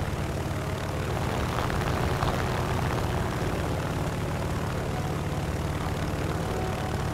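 Propeller engines of French aircraft in the air-combat video game War Thunder drone steadily and loudly throughout, a continuous low, dense engine roar with no talk.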